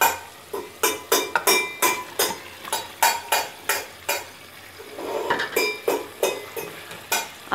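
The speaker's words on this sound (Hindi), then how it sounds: "अब हमने इस मसाले के साथ चिकन को बहुत अच्छे तरीके से भून लेना है।" A spoon clanks and scrapes around a pot while chicken is fried in a degi qorma masala. The metallic knocks come in quick, uneven bursts, close and fairly loud, with only a faint sizzle underneath.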